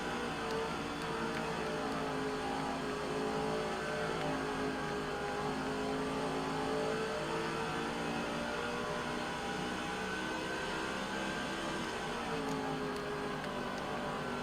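Race car engines in the video game NASCAR 05, a Busch Series race at Nazareth: a steady, droning pack of engines holding a constant whine throughout, moderately loud with no breaks.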